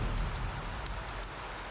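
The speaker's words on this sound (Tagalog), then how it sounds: "And it started raining, so the conditions were really bad." Steady rain falls through an outdoor challenge, a dense broadband hiss with a few brighter drop splashes, fairly close and unbroken with no voices.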